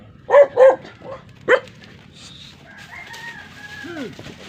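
A dog barks several times in quick bursts up close at a goat, followed by a rising and falling goat cry and a rooster-like call in the background.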